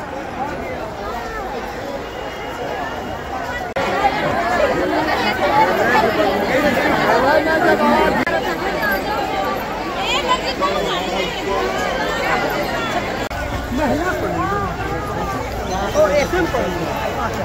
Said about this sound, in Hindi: आरती खत्म होने के बाद भीड़